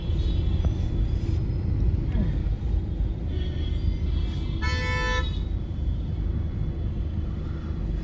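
Heavy road traffic in a jammed street in Karol Bagh, Delhi, with a steady low engine rumble and a clear car horn honk near the middle, plus fainter toots earlier.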